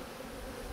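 Honeybees buzz at a beehive in a steady, dense drone that fills the moment without a break, close and continuous with no voices.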